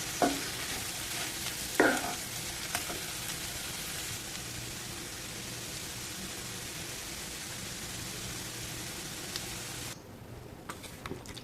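Potato curry sizzles steadily in a pan, a continuous close frying hiss with a couple of sharp scraping stirs near the start before the sizzle cuts off at the end.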